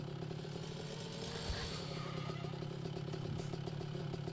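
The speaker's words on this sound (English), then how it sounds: "Yes, attack a man with a chainsaw." A video game chainsaw drones steadily and continuously at moderate loudness with a rough, buzzing engine tone, no pauses throughout.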